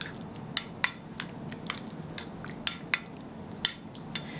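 Avocado and shrimp salad with dill being mixed in a bowl, giving a run of sharp, irregular clinks and scrapes of utensil against dish over a low steady background, with no talking.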